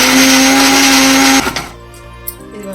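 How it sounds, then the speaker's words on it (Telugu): A kitchen mixer grinder whirs loudly at high speed blending vegetable chutney with coriander, then cuts off abruptly, leaving a fading spin-down and a small clunk. "ఇప్పుడు మిక్సీ పడుతుంది"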